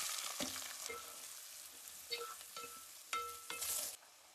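Sliced onion and green chilies hitting hot oil in a pan for mutton keema curry, giving a soft continuous sizzle broken by clattering stirs and scraping spoon knocks, with no talking.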